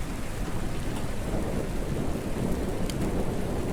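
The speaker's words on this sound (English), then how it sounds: "he focuses on the sound of the rain outside" Steady, heavy rain pouring down in a dense, continuous hiss with a low rumbling undertone, unbroken from start to finish.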